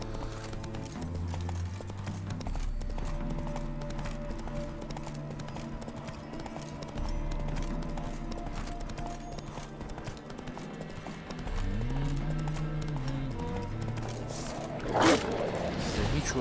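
The horse Roach gallops in The Witcher 3: Wild Hunt, a rapid, steady clip-clop of hooves running continuously under layered game music, with a brief louder burst near the end.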